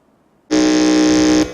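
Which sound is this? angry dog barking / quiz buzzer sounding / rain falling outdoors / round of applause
quiz buzzer sounding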